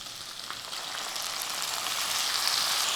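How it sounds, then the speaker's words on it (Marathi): Ambadi greens tipped into hot oil with frying garlic and chillies, a loud, dense sizzle that swells and hisses steadily throughout. "आता यामध्ये ही पालेभाजी घालायची आंबाडीची भाजी"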